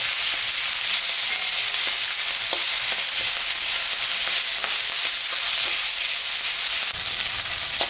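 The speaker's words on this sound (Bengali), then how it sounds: "পেঁয়াজ লঙ্কা ভাজা হয়ে গেছে" Chopped onions and green chillies, with ginger and garlic, frying in hot oil, giving a loud, steady, close sizzle with faint crackles throughout and no voices.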